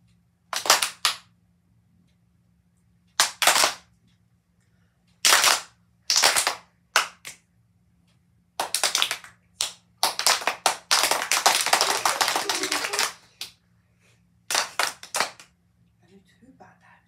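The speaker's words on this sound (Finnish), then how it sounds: "sun pitää yrittää taputtaa, tai mitä mä teenkään, niin ihan yhtä aikaa kuin minä." Hands clapping together in unison, short bursts of sharp claps repeated in groups with a longer sustained run of applause-like clapping in the middle, separated by quiet gaps and talking.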